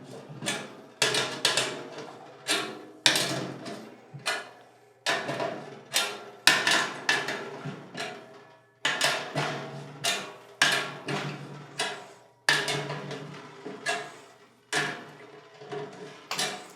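Tuning a new-headed Ludwig Supralite 14x6.5 steel snare, with a drum key turned lug by lug: a close series of sharp metallic taps and short ringing strikes, each quickly fading, repeating in an even rhythm of roughly one every second.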